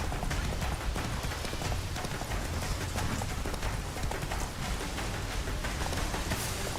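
Roach, a horse in The Witcher 3 video game, gallops with a fast, continuous drumming of hoofbeats, loud and close, over a dense steady background.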